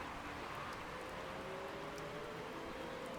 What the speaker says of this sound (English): Yeah, and it's still raining some.